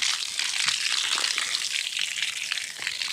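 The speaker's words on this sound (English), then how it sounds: "it's looking like it didn't have any rain, so just giving this a water" Water gushes and splashes steadily onto soil around a newly planted Kentucky coffee tree, a close continuous hissing spray.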